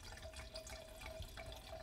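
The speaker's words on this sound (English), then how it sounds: "We're just gonna pour and hope for the best." Red wine pours from a bottle into a glass in a faint, steady liquid trickle with soft splashy gurgles, quiet and close, with no talking.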